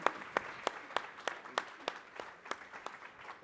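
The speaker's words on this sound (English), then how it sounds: "Big applause for Ruwido and Bouygues." Conference audience applause, faint and fairly thin, with individual claps clearly separated in a loose, slightly uneven rhythm.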